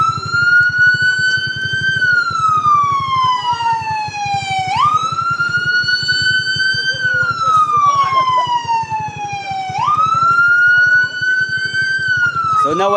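A fire truck's siren wails continuously on a road during a fun run, responding to a burning vehicle, its pitch sweeping up and down in repeated slow cycles, loud and close over a steady engine rumble.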